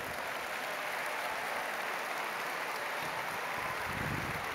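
Applause from a large audience at the Festival of Families in the Vatican's Paul VI Audience Hall, heard as a steady, dense wash of clapping that fills the whole clip with no break.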